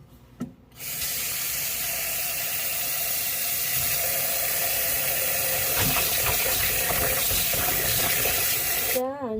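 Tap water runs in a steady, continuous stream into a sink or bowl to soak dried morel and black trumpet mushrooms. The flow starts abruptly and fills the scene at moderate volume until it cuts off.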